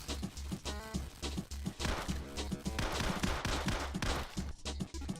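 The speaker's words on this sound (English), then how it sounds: "This is as fast as I can shoot with the machine gun." Rapid machine gun fire in the video game Atomic 79 comes as a steady, evenly spaced stream of punchy low thumps that runs throughout, layered over busy background game music.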